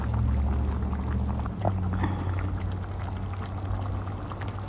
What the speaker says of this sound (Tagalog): Dadagdagan ko pa ng tubig.